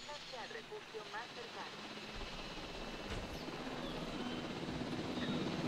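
A ranger helicopter in Jurassic World Evolution, a steady rotor and engine drone that grows slightly louder, mixed with creature cries and a voice talking over it.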